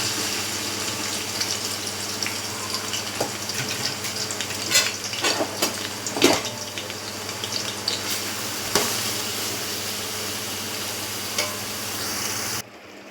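Three-quarters of a kilo of sliced onions fry in hot oil with cloves, cinnamon and cardamom for prawn biryani, a steady close sizzle with occasional stirring scrapes and louder crackles throughout.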